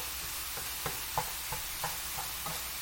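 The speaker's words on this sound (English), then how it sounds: "Just keep stirring it if you got it on high." Food cooking on high heat being stirred in a pan, with soft regular scrapes about every third of a second over a low steady sizzle, close and fairly quiet, no voices.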